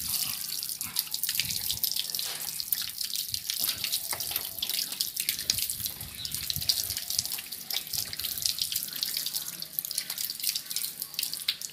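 Tap water runs steadily into a sink for hand washing, a continuous close splashing flow with faint drips throughout and no talking.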